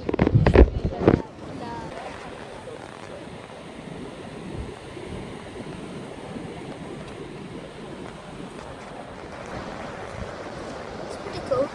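Waves and surf wash steadily onto a sunny beach on holiday, a broad continuous roar with wind buffeting the microphone; a louder burst of wind noise at the very start, then an even, moderate wash throughout.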